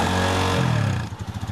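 Motorcycle engine during CBT rider training, revving with a rising then falling roar that settles into a throbbing idle, loud and close, with no talking.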